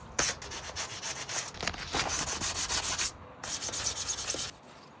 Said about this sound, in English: I'm gonna take some sandpaper. I'm just gonna scuff up all this rust that we have here